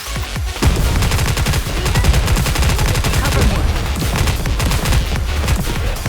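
Rapid gunfire in the mobile shooter game Nikke, loud dense automatic bursts running continuously and close, with overlapping shots and impacts throughout.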